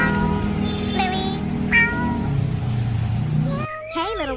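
Cat meowing, with a few drawn-out meows spread through the stretch and the last ones loud and close, over a steady background.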